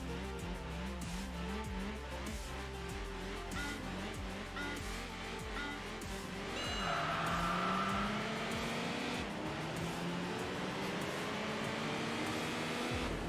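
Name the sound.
Audi and BMW race cars accelerating in Enthusia Professional Racing video game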